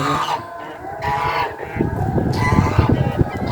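Chickens of several breeds, including bearded ones, and other fowl cluck and call close by in a garden, a busy overlapping chorus of barnyard birds growing louder toward the end.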